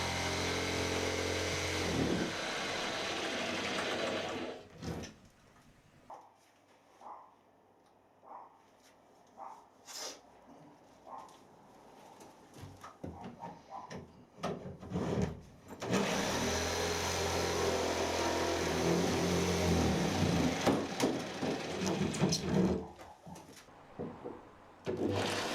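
Power saw plunge-cutting into a window opening for a DIY man cave shed, with bursts of loud whining cutting at the start and end, and intermittent knocks and short tool sounds between them.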